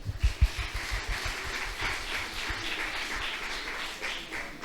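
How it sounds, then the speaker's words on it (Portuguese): Audience applause for actors at a church youth camp gathering, a steady wash of many hands clapping that holds for several seconds at moderate loudness, with no voices over it. "Uma salva de palmas para os nossos atores"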